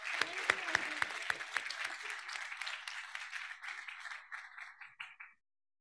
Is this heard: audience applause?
yes